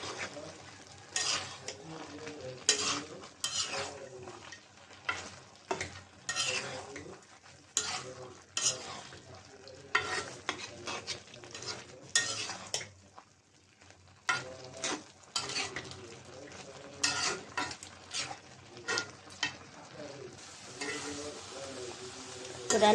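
A prawn and mixed-vegetable curry is stirred in a pan, with a spoon scraping and clinking against the metal in quick, uneven strokes over a soft background sizzle.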